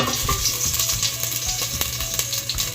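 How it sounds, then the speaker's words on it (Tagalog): Ginger sizzles and crackles in hot, smoking cooking oil, loud and close, with spatula scrapes and stirring clinks over the frying. "lagay tayo ng mantika. Ayun, nagusok-usok na. At isunod na natin tong luya"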